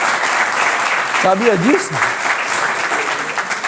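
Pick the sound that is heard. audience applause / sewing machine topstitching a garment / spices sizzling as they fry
audience applause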